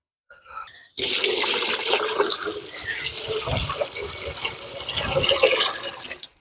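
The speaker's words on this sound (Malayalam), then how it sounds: "വെള്ളം ഒഴിച്ചു കൊടുക്കാം" Water poured into a pot of rice for ghee rice, a loud steady splashing stream starting after a brief quiet moment and continuing to the end, with no talk over it.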